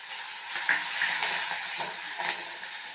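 Chili, onion and peeled garlic sizzle steadily in hot oil for a Kongu-style dal kuzhambu tempering, a continuous close frying hiss with faint stirring clinks.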